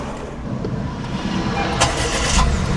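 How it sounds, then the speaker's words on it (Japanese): A turbocharged kei camper van engine cranks and starts, a rough steady motor rumble building slightly, close and fairly loud with no talk over it. "この状態で一度エンジンかけてみます。"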